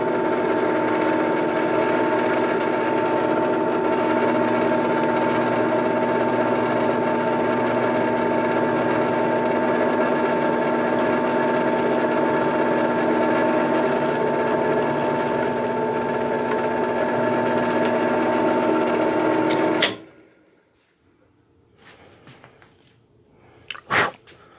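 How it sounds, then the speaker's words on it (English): A power drill bores neck mounting holes into a P-bass style bass body, running as a steady, loud, continuous whir for about twenty seconds before cutting off, followed by faint handling clicks. "I drilled the first 2 holes"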